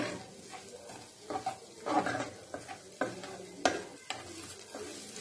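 A spoon stirs ground coriander into spice masala in a pan, scraping and tapping in irregular strokes over a soft sizzle, close and fairly quiet, with no talking.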